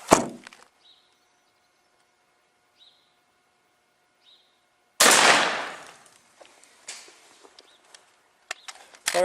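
A 20 gauge shotgun fires at a turkey pattern target outdoors: one sharp blast at the very start and a second loud, close blast midway, with faint bird chirps in the quiet gap and light rustling and thumps afterward.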